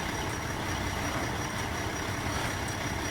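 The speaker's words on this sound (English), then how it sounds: "get rid of the vehicle engine sounds when you're down here, because you can hear it like if it were right next to you" A vehicle engine idles in the EmergeNYC emergency-services video game, a steady low broadband rumble and hum that holds at the same level for the whole stretch, close and constant, with no talking over it.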